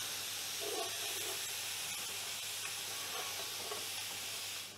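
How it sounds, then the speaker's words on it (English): Finely chopped celery softening in a pan, a faint steady sizzle and hiss with a few soft stirring scrapes, quiet and alone. "And now we're going to let that soften up and stir it so it doesn't burn."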